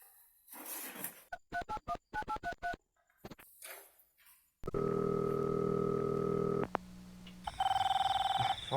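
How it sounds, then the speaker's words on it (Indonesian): Telephone keypad tones beep in a quick series of short dialing presses, then a steady loud ringback or dial tone takes over, close and clear with faint background voices at the start. "Jajal tak teleponin deh."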